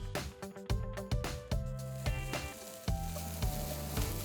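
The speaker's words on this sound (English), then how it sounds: "You're gonna hear the garlic start to cook and you're gonna smell the perfume of it." Garlic and meat frying in oil in a pan, a steady close sizzle beneath a rhythmic, tonal musical backing with regular beats.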